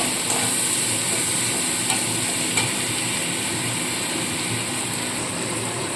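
Fish head sizzles as it lightly fries in a pan for masoor dal, a steady hissing crackle with a few soft pops and no one speaking.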